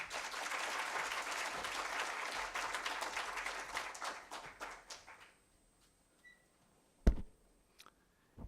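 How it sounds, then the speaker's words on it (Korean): At an anniversary forum for a university mechanical engineering school, a hall audience welcomes a guest speaker with steady applause for about five seconds, then it stops into near silence broken by a few isolated knocks and clicks. "큰 박수 부탁드리겠습니다."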